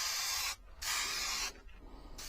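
A £42 airbrush spraying paint straight out of the box, three close bursts of bright hissing spray separated by short pauses.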